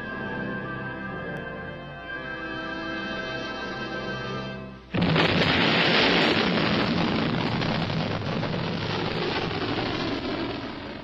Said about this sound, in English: The ballistic missile-firing submarine USS Ethan Allen launched into the Pacific nuclear test range a fully armed Polaris A-1 missile.